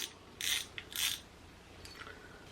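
A spinning fishing reel's drag being loosened gives two quick bursts of close, crisp ratcheting clicks, then a few fainter clicks, with no talking.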